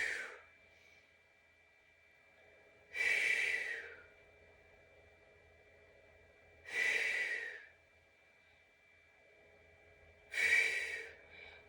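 Three slow, audible exhales during a chair and standing yoga session, each a breathy whoosh spaced about four seconds apart over a steady faint tonal hum, close and moderately loud, with no speech.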